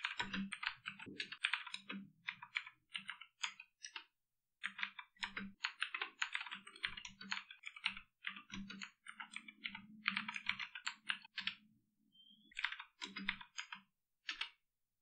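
Commands are typed on a computer keyboard in quick bursts of close, crisp key clicks with short pauses between runs and an occasional heavier keystroke.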